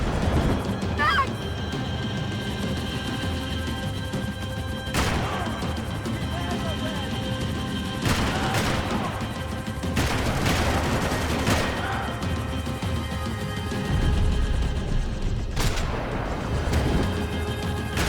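Gunfire during an action sequence in the video game Max Payne 3, with sharp shots and bursts cracking out at irregular intervals over a constant rumbling engine-like background, along with shouted game dialogue.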